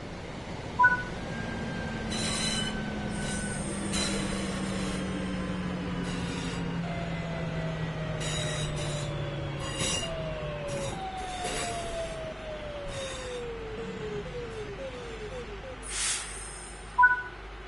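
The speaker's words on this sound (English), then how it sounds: "it's time to bring the train to a stop" A train in a train simulator game slowing to a stop, long descending brake whines and tones gliding downward over a low rumble, with occasional clanks and brief hisses near the end.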